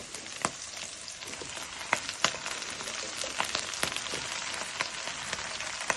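Taro greens hit a pan of browned shrimp frying in oil, giving a steady, close sizzle full of sharp pops and crackles with no talking.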